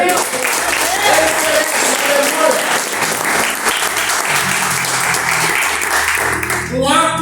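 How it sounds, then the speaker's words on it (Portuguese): Loud congregation applause during a church sermon, dense clapping that holds steady for several seconds, with a voice speaking over it and fading near the end. "Dê um aplauso para ele"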